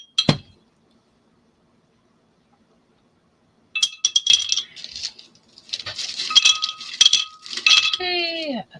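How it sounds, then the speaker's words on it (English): Wooden tumbling tower blocks tipped into a lamp box, a sharp clatter at the start, then after a pause a long run of dense knocking and clinking as the blocks pile in, with a voice briefly over the end. "So let's put these blocks in here."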